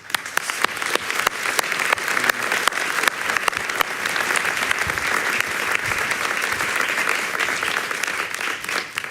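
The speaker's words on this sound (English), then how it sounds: "Give her a warm hand of applause, maybe." Warm audience applause at a talk in Amsterdam: dense, loud clapping from a large crowd, sustained evenly for about nine seconds, with individual sharp claps standing out near the front.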